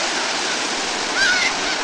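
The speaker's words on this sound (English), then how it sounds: "We're in sunny California at the beach there at Huntington State Beach" Pacific Ocean surf at Huntington State Beach, California, makes a steady broadband wash of breaking waves close by, with a brief high call rising over it.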